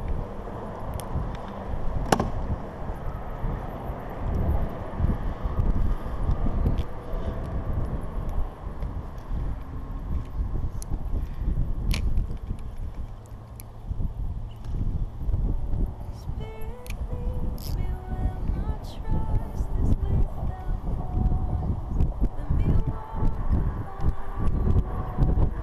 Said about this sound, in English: That wind seems to get stronger.